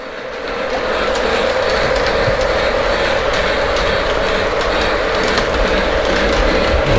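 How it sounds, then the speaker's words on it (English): A model train runs continuously along a layout track nearby, a steady whirring rumble with faint rhythmic clicking that swells in at the start. "The train's going the long way"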